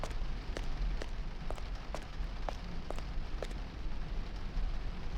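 Rain in Hitman: Blood Money falls as a steady, soft hiss, with scattered sharp drips and taps landing at irregular intervals throughout.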